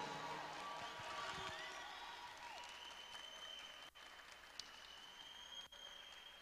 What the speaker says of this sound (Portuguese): Uma salva de palmas para a equipe Fênix!